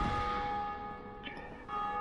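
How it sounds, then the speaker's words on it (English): Church bells ring in the Dark Souls video game, a sustained metallic bell tone with ringing overtones that fades slightly and swells again, fairly loud and with no voices. "Somebody ringing the bells."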